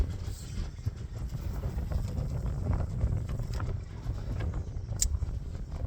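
Strong east wind on a cool fall day: steady, heavy wind rumble buffets the microphone throughout, a constant low roar with gusty surges and faint creaks, no voices.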